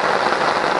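Dense, steady rain patters hard on a nearby surface, a loud continuous hiss with no voices.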